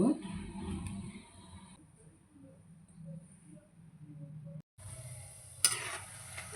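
Spiced rice flour chakli dough fries in hot oil with a bubbling sizzle that fades to a quieter crackle with small pops, then surges again, with a sharp clink near the end.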